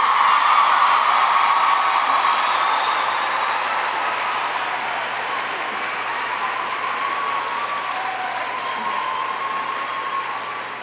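Sustained audience applause at a 2010 commencement ceremony, a dense, even wash of many hands clapping that holds steady for about ten seconds and tapers slightly near the end.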